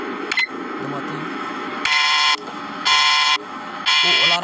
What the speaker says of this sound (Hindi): ओ अलार्म बज गया